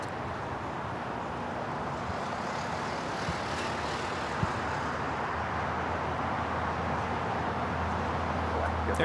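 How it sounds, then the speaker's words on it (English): An Air France Boeing 777-300ER jet taking off from runway 24 left at LAX, heard as a continuous heavy engine roar with a low rumble that holds steady and builds slightly toward the end, fairly distant and without talk. "Air France Flight 23 taking off to Paris on the 777-300ER"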